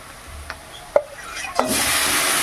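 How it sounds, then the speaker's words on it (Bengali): Small pona fish, marinated in spices, go into hot oil after a few soft knocks and scrapes, and then a loud, steady hissing sizzle sets in and carries on close by. "পুরো মশলা সহ ঢেলে দিলাম মাছগুলোকে।"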